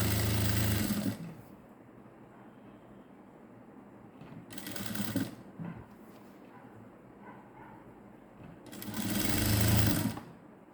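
A sewing machine stitching a blouse, loud close bursts of rapid mechanical whirring separated by quieter gaps.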